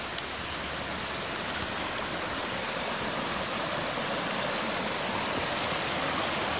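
Small stream flowing under a trail bridge on the Appalachian Trail, a constant, dense rushing of water, close and steady throughout with no voices.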